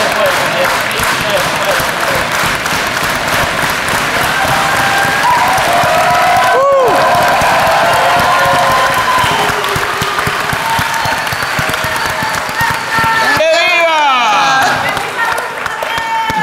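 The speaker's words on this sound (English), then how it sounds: "let's do it with an organized hand clap" A rally crowd at a panel discussion claps in organized unison and cheers loudly, a dense steady roar of hands and voices with shouts and whistles rising above it throughout.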